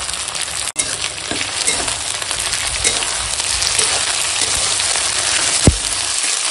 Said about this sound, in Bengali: পেঁয়াজটাকে ভেজে নিই আর দেখো এখন পেঁয়াজটা এরকম ভাজা হয়ে গেছে